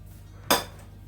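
A single sharp clink of a spoon against a bowl while stirring chopped onions, close and brief, with quiet room background around it.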